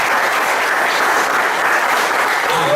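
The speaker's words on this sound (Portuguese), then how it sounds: "Vamos aplaudir o Senhor Jesus." A church congregation at a youth retreat applauds, giving steady, loud, sustained clapping from many hands with no pauses and no talk over it.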